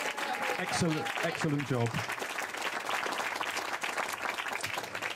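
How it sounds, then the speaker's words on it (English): Wedding guests at a reception applauding the people who washed up, a full room of clapping that continues steadily throughout, with a voice briefly speaking over it near the start. "a round of applause for the washer-uppers"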